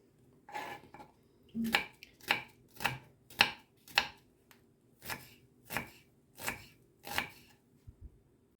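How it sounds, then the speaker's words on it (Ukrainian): A knife chops onion into small dice on a cutting board in a steady rhythm, about a dozen crisp, close thuds with short pauses between them. "Цибулю нарізаю дрібним кубіком і буду смажити"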